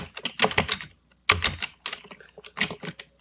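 Quick bursts of key clicks on a computer keyboard while a Linux command is typed, close and fairly quiet, in short clusters separated by brief pauses, with no talking.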